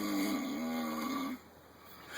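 A person snoring nearby, one long droning nasal inhale that rumbles with strong steady tone before cutting off into quiet breathing, with no talk.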